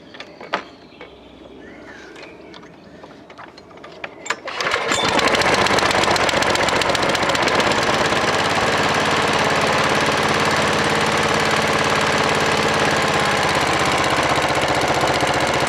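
A Hayter 48/56 lawn mower engine catches after quiet handling noises and settles into a loud, steady running roar close by for the rest of the clip.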